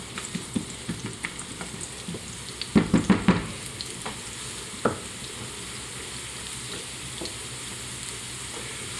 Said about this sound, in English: let it saute up a little bit.